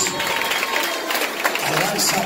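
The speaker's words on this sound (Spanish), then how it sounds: "Aplauda a Dios por ella." Applause from a church congregation during an evangelistic service, a steady broadband patter of many hands sustained throughout, with a voice talking over it.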